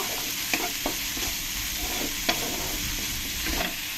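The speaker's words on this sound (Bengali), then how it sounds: "বড় এক চামচ আদা রসুন পেস্ট দিয়ে ভালো করে আমি পেঁয়াজের সঙ্গে কষিয়ে নেব" Onion paste with ginger garlic paste sizzles steadily in a pan while being stirred, a constant frying hiss with a few faint spoon taps against the pan.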